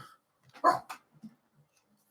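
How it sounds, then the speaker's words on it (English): A dog barks a few times nearby, short sharp yaps and a whine in a quiet room, with long silent gaps between the calls. "Apologies for the dog."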